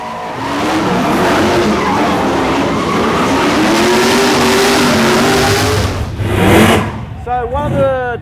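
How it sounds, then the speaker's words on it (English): Japanese import cars drifting at a car show, tires squealing in long wavering screeches with engines roaring under a noisy crowd, ending in sharper rapid squeals. "a group of drifting Japanese imports, burning rubber and synchronised driving"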